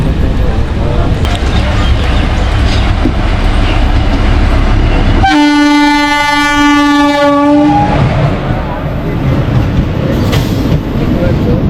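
A train rumbles along at a station on the Azimganj–Katwa line, loud and close, with a long horn blast in the middle and steady rail noise on either side, and a voice talking faintly.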